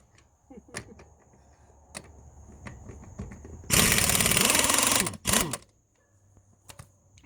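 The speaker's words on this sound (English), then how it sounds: "So take your impact and go ahead and loosen your lug nuts." An impact wrench loosening lug nuts on a Dodge Charger: a loud, sustained rattling whir for about a second and a half, then a short second burst, with clinks and handling noises around it.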